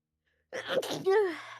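A single sharp sneeze bursts out close by after a moment of silence, trailing into a brief breathy tail.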